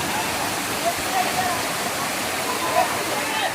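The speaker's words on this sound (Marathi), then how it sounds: "हा इकडे वरती वॉटरफॉल आहे" Bhivpuri waterfall near Mumbai roars as a dense, steady broadband rush of falling water, loud and close throughout with no pauses.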